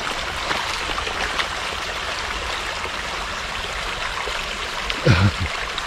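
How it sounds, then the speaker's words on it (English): Meltwater gushes like a waterfall into a lake, a steady close rushing roar that runs without a break, with a brief low bump near the end. "That's literally a waterfall going in the lake."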